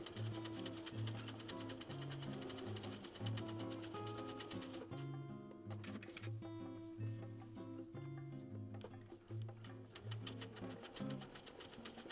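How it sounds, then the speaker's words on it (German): A sewing machine topstitching a patch pocket on denim jeans in a fast, steady mechanical rhythm, running continuously and close with a brief change in pace midway. "Nun geht's an die Nähmaschine."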